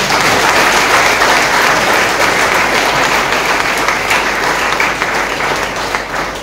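Sustained audience applause fills the space after an evening music performance, a dense wash of many hands clapping steadily, loud and close, gradually thinning slightly toward the end.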